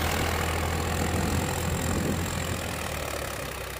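A Swaraj 855 tractor engine runs steadily at a low, constant drone, close and unbroken, with a faint rough knock under the rumble and no voices.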